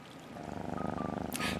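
A human voice imitates a cat's purr with a steady, fast rhythmic rumble that builds over a second and a half, ending in a brief breathy hiss.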